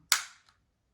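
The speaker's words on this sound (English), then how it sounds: "pull the blowback unit back, you can see if there's any BBs inside" Pulling back the blowback slide of an AAP01 airsoft pistol gives one sharp, close mechanical snap that fades quickly, followed by a much fainter second click a moment later, with silence around it.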